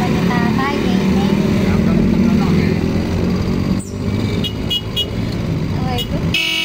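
Congested road traffic hums with idling and creeping engines while short car horn toots break through near the end, a busy, steady street din with sporadic honks.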